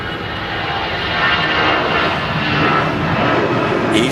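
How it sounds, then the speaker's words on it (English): An easyJet Airbus A319 at Manchester Airport gives a steady, loud engine roar that holds and swells slightly over a few seconds, with no voices. "EasyJet A319,"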